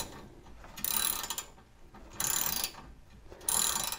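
A ratchet tightens new 5/8 caliper mounting bolts on a C3 Corvette's front brakes, three close bursts of fast clicking separated by short pauses.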